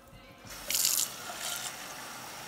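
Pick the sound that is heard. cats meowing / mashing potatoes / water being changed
water being changed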